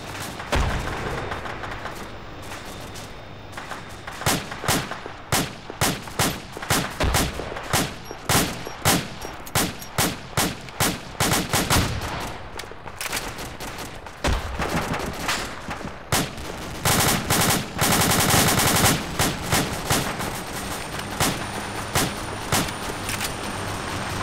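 A DShK heavy machine gun on a technical fires in Arma 2 from roughly 200 meters, south of a town. Repeated sharp bursts and single shots crack through the scene, some near and some more distant, with heavy thumps between volleys.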